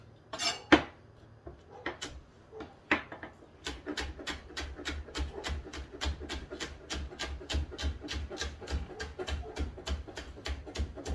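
A knife chops tomatoes on a cutting board in a kitchen, a few scattered knocks giving way to a long run of fast, even chops that ring against the board close up.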